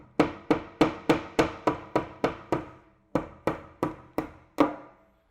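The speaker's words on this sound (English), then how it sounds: "Gently tap it in with the hammer." Green plastic wall anchors are gently tapped in with a hammer: two runs of crisp, evenly paced knocks, about eight and then five, close up with no voices.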